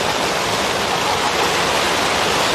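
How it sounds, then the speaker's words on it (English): Heavy rain pours steadily across an open football ground during an A-grade country match, a dense, loud, unbroken hiss filling the scene from start to finish. "the rain just starts to pour"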